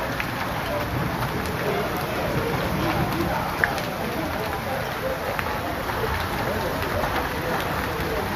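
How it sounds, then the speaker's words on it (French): Hail falls steadily during a storm in Lourdes, a dense, continuous rattling patter that stays loud and even throughout, with faint voices underneath. "Regardez de la grêle."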